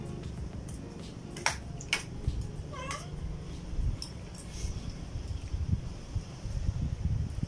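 An angry cat meows several times, drawn-out and whiny, at close range over a windy outdoor background.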